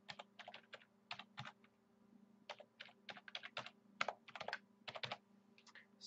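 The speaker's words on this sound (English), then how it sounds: "Type in your admin username and password." Close, quiet typing on a computer keyboard: irregular bursts of key clicks with short pauses between them, entering login details, over a low steady electrical hum.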